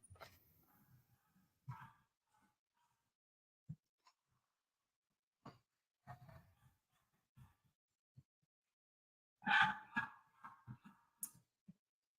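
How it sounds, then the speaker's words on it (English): Dogs go off at someone arriving at the door, giving scattered faint barks and yips across a mostly quiet stretch, then a loud, close burst of frantic barking near the end. "I'm so sorry if you can hear the dogs going crazy"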